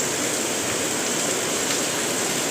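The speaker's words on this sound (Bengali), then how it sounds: "এই দেখো, পুরো দমে একেবারে বৃষ্টি পড়ছে।" Heavy rain pours down in a dense, unbroken hiss, loud and even from start to finish, with no talk over it.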